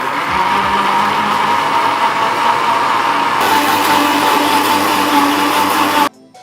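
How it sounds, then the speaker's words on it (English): A blender whirs steadily and loudly as it blends soy milk, oil and strawberries, a constant close motor drone that cuts off abruptly just before the end. "All we do next is blend."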